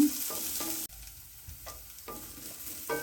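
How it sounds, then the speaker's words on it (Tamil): Chopped onions sauté in hot oil for rava kichadi, a steady close sizzle broken by several scraping stirs of the pan, with no voices. "வெங்காயத்தை சேர்த்துக்கிடுவோம் வெங்காயம் கொஞ்சம் நேரம் நல்லா வதங்கட்டும்"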